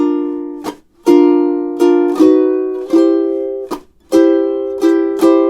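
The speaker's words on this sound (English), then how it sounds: "If I play what the guitar's playing for measures 13 and 14, it would sound like this" Acoustic guitar strums a slow, steady rhythm for two measures in a ukulele and guitar duet, with sharp chord attacks every half second or so that ring and decay, loud and close, with no talking.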